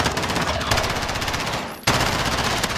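Rapid machine-gun fire from a first-person video game shooter, loud and continuous, broken near the middle by a sudden grenade blast before the shooting resumes.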